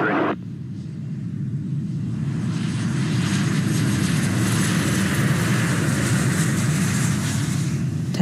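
United Airlines Flight 93, an airliner, takes off with a steady loud jet engine roar that builds and holds throughout, a broad continuous rumble and whine close by.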